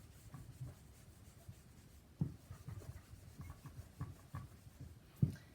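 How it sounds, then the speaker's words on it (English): Handwriting a sentence during a math lesson, a quiet scratchy rubbing of pen or pencil on paper with occasional small taps, close and without speech. "And now I just have to write my sentence."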